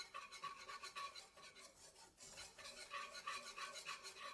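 Flour is stirred into a roux for a chipotle sauce, a faint rhythmic scraping and swishing of a utensil against the pan, quiet and continuous with a brief pause midway, no speech.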